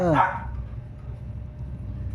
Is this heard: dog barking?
yes